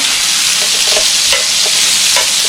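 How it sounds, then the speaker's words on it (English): Onions fry in a hot pan for a Salisbury steak gravy, a steady close sizzle with soft stirring scrapes over it. "So I'm going to get these onions going."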